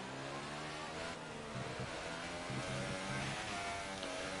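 Formula 1 car engine in the racing game F1 2018 at the Baku circuit, a steady mid-pitched drone with shifting tones as it changes gear, heard fairly quietly.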